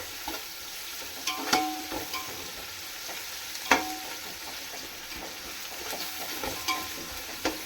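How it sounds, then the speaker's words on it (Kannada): Onions frying slowly in a pan for chicken dum biryani, a steady soft sizzle with scattered louder scraping stirs, close and alone without talk. "ಈರುಳ್ಳಿನ ಸಮಾಧಾನದಿಂದ ಫ್ರೈ ಮಾಡ್ಕೋಬೇಕು ನಾವು"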